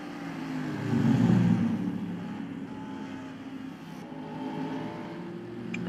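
Stock cars racing in the NASCAR Racing 2003 video game, a steady broad engine roar that swells loudly around the first seconds as cars pass, then holds a continuous droning hum.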